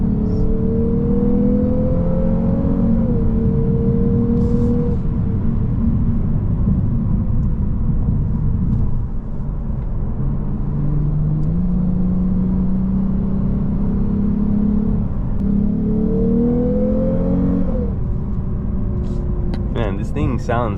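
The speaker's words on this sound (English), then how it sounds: "it's the actual sound of the engine" A 2023 Lexus RC 350 F Sport engine revs up twice inside the car, each pitch climbing then falling away over a steady loud drone that fills the whole stretch.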